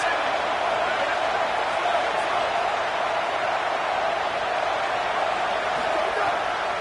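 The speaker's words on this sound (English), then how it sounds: "Listen to this crowd just shaking the girders of this place, trying to help their defense." A football stadium crowd roars without pause during a game against Utah, a dense, even wall of noise that holds steady throughout.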